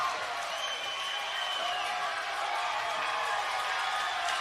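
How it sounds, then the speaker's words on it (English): A wrestling crowd roars and applauds at an intergender match, a dense, steady wash of cheering that stays loud and constant throughout. "The crowd erupting. People are on their feet."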